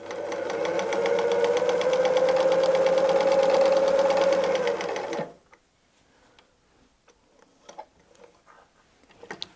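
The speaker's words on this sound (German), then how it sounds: "ich kann eine gerade Ausnaht nähen und ich kann, wenn ich mag, eine Kurve nähen" Sewing machine running steadily for about five seconds while free-motion quilting a seam, a loud fast mechanical rattle with a whirring motor tone, then stopping, followed by a few faint clicks and handling sounds.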